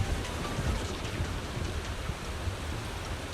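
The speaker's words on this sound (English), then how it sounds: "And the rain, oh my gosh." Rain falling in the video game Zenless Zone Zero, a dense, even hiss of steady downpour, loud and unbroken throughout with a low rumbling underlayer.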